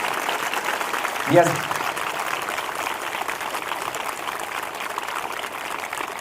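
A church congregation at a Sunday evening meeting claps in a steady, dense roar that continues throughout, while a voice speaks briefly near the start.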